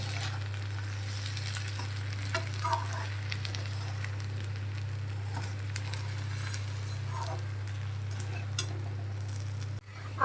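Steady sizzling of fish head frying in a pan, continuous and close, with occasional faint clinks and stirring scrapes, ending in a brief sharp knock.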